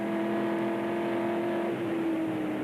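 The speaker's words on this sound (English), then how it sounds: "We go on accelerating now, all the way up to a new chicane" A 1968 Le Mans race car accelerating hard toward a chicane, its engine a loud sustained drone with a clear pitch that holds steady and then shifts slightly, close and continuous.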